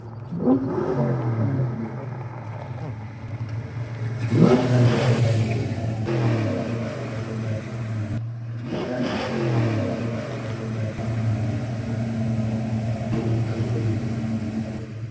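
A Ford Mustang, a 5.0 V8, rumbles up a driveway with a deep, steady idle, then the engine revs in a loud surge and settles back to a throaty low burble as the car rolls closer.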